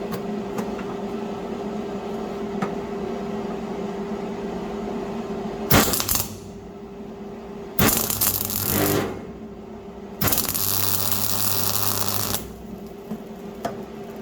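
Welding a slightly oversized nut onto a Fiat Punto GT under restoration, three loud crackling, buzzing arc bursts of about one to two seconds each over a steady electrical hum.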